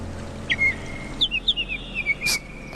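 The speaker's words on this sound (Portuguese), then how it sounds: "canto dos pássaros" Birdsong in an outdoor setting: a few clear, high whistled chirps and short trills, separate calls rising and falling over a quiet steady background.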